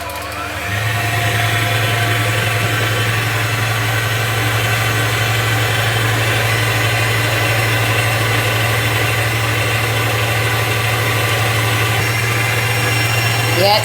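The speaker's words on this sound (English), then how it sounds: "And then it's time to blend all together, or whisk all together." Electric mixer blending oatmeal and honey bread batter, a loud, steady motor whir running continuously from start to finish.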